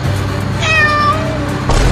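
A cat meows once in a long, wavering, rising-and-falling cry, close and loud over a steady background rumble, with no talking.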